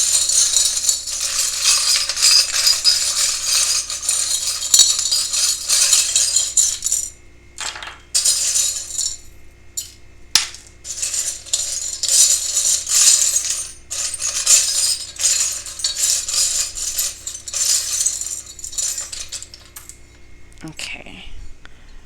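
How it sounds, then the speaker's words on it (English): Small charms are shuffled around in a container, giving busy bursts of clinking and rattling with brief pauses, close and fairly loud, while a person speaks at times. "I just shuffle around until I feel like it's time for me to take out some charms."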